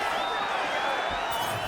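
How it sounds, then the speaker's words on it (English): A large UFC arena crowd roars in a dense, sustained wash of cheering and whooping at a women's bout, loud and continuous throughout. "the crowd continues to react"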